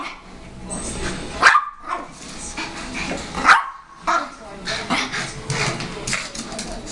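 A pet dog barks sharply a few times close by, mixed with excited yips and whines, while someone talks to it in between.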